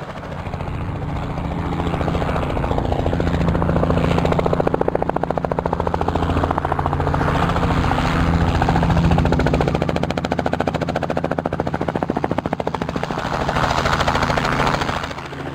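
A light aircraft on the runway at SBJR during a traffic circuit sounds out with a loud, steady engine and propeller roar that builds slightly and holds for the whole stretch, with no talk over it.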